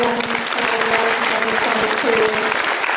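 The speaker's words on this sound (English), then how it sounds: "Round of applause for the" A school audience applauds at a 7th grade awards day, with dense, steady clapping filling the whole stretch at close range and a few voices mixed in.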